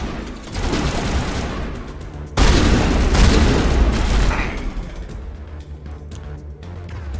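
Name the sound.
shotgun gunfire in the video game Mass Effect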